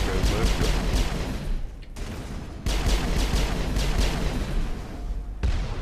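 Gunshots in a Mass Effect firefight, loud sustained bursts of weapon fire with a couple of abrupt cuts into brief quieter gaps, close and continuous.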